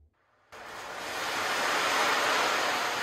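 An ocean drum imitating waves as Foley: after a short quiet start, a loud, close, wash-like rushing sound sets in abruptly and swells steadily, sustained like surf rolling in, with no talking.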